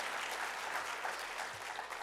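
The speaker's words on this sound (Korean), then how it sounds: "하나님 앞에 한번 감사의 박수 불러드리겠습니다" A church congregation claps in thanks for returning short-term mission teams, a steady, even wash of many hands at moderate, fairly distant volume with no break.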